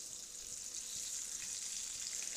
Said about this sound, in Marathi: आपली सुरमई एका बाजूने भाजलेली आहे आणि आपण आता तिला पलटी मारलेलं आहे